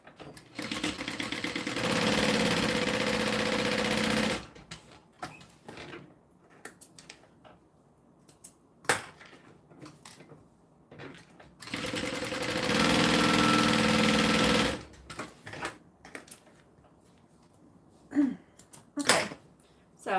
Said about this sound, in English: So here is the top stitching, and then now what I'm going to do, is close it up.